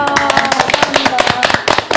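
Audience at a church online retreat session clapping in applause, a dense run of quick hand claps over about two seconds, with some voices mixed in.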